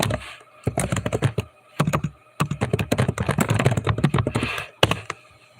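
Rapid computer keyboard typing in several bursts of dense, close clicking and clacking keystrokes, separated by brief pauses, with a few sharper taps near the end.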